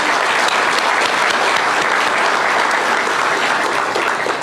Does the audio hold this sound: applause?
yes